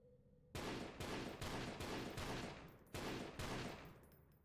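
Enemy turrets in the sci-fi shooter EYE Divine Cybermancy fire loud, close bursts of gunfire, about eight heavy repeated volleys in quick rhythm after a brief quiet start.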